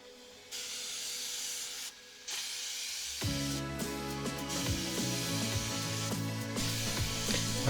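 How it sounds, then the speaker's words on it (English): Steady hissing spray bursts in close as a truck camper is spray painted outdoors, with a brief pause, then continuing under a layered mechanical hum. "we're about ready to spray."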